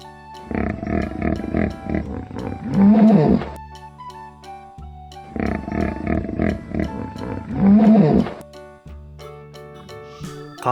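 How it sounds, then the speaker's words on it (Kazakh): Hippopotamus calls: two long series of deep, loud grunting honks and wheezing bellows, each building to a harsh roaring climax, with a short pause between them and a softer call starting at the end. "Су сиыр."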